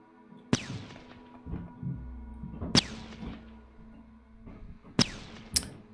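Gunfire in the strategy video game Shadow Empire on a ruined megapolis map: three sharp, loud shots spaced a couple of seconds apart, each with a ringing tail, plus softer thuds between them, with no talking.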